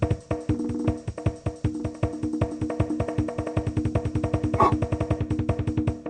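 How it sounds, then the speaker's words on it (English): A dog barks in a rapid, relentless series of sharp yaps, dozens in quick succession, loud and close with no pause over several seconds. "Oh, my dog's popping right off."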